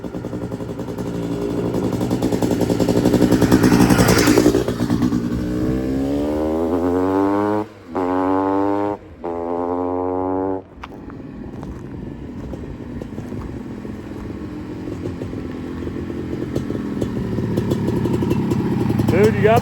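A Honda CR500 two-stroke dirt bike ridden on pavement, its engine revving up through rising and falling pitch sweeps, briefly cutting out between gear changes, then droning on loudly while people talk over it.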